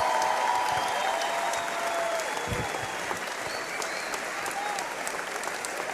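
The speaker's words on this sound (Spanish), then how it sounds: "Fuerte el aplauso para la compañía del Frente Amplio." A conference hall audience at a citizen-power and justice forum applauds in a sustained, fairly distant wash of clapping, with faint voices underneath.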